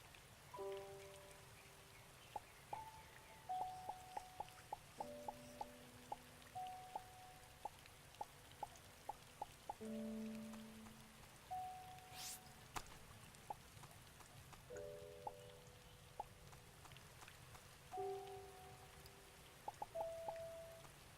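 Rain pattering in the video game Starbound, a faint, steady hiss of drops on surfaces with scattered ticks, mixed with soft melodic game tones throughout.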